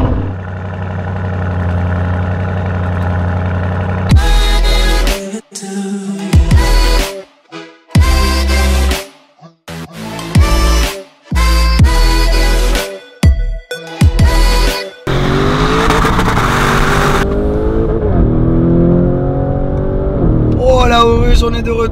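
A Lamborghini Urus on a morning cold start, loud and close, with a series of sharp revs and abrupt cut-offs followed by a sustained rising and falling engine note, a voice speaking over part of it.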